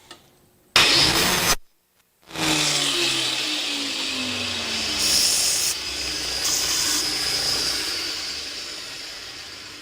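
A saw cutting the tip of a golf club shaft gives a loud, steady grinding rasp that starts abruptly, stops briefly, then resumes and runs continuously, slowly tapering in intensity.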